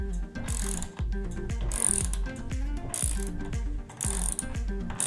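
A tool works a silent-block bushing into an aluminium part with a steady run of loud, close ratcheting clicks and mechanical clatter, repeating in a regular rhythm, with no voices.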